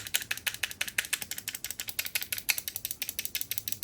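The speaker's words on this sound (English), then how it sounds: "They are also clicky, which I like, but the sound they make, I imagine if there's someone in your vicinity, they might get annoyed pretty fast" Face buttons on a Razer Kishi Pro game controller pressed rapidly, a fast string of sharp, crisp plastic clicks in a steady mashing rhythm, close and isolated.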